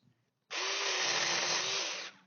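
A Saker mini chainsaw is triggered and runs at a high-pitched, steady whine for about a second and a half before cutting off, close and loud with no talk.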